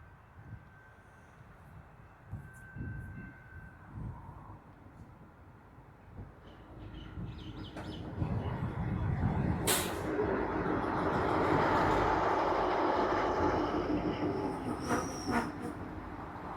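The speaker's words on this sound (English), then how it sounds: "Now here comes our train, the 2:14, to take us back to Frankston." A diesel train pulls into Baxter station on the Stony Point line, growing from a distant rumble into a loud close roar with a sharp hiss of air brakes and squealing tones as it slows and stops.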